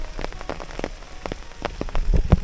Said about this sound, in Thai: โอ้โตเราดูฝนทุกคนเลย